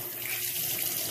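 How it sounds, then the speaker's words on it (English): Plain water sprays and splashes steadily in a shower during rinsing, a continuous close hiss with no voices. "I'm gonna rinse the product with just plain water"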